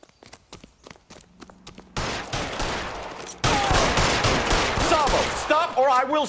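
Several sharp gunshots crack out in sequence, sparse at first, then swelling into a loud, continuous burst of fire mixed with commotion and a voice shouting over it.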